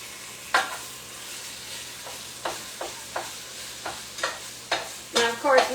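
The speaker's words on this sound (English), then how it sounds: "I throw my onions pretty much in while I'm browning my meat." Meat browning in a stovetop chili pot sizzles gently under a series of sharp scraping and stirring strokes, roughly one every half second toward the end, with no talking.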